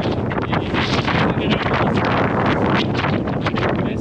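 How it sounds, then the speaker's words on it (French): Strong gusty wind roars and buffets loudly and close throughout on a hiking trail on Mont Lozère, a dense rushing noise with no voices. "un petit vent là cet après-midi, encore plus fort que les jours d'avant."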